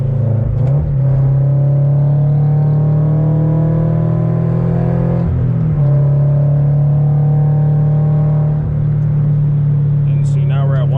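Toyota 86 / Subaru BRZ sports car at highway speed, its engine giving a loud, steady drone with a constant low hum and road rumble from inside the cabin, barely changing throughout.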